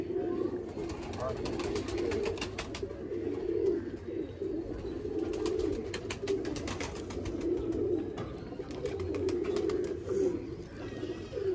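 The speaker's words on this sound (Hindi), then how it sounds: "दोस्तों, देखें कबूतर" Pigeons coo in repeated, low throaty rolls at close range, several birds overlapping in a steady pulsing rhythm, with people talking over them throughout.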